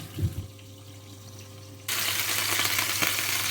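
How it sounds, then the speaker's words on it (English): Sliced plantain fries in a pot, a quiet steady hiss that suddenly jumps to a loud, broad sizzle and bubbling halfway through, continuing close up. "The plantain has been frying in the pot for about a minute."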